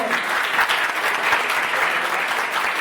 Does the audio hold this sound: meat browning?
no